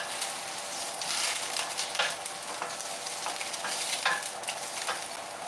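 Food sizzles steadily in a cast iron skillet for a Sunday afternoon cook, with soft scraping strokes of stirring recurring every second or so over the constant frying hiss.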